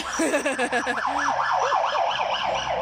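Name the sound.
passing vehicle siren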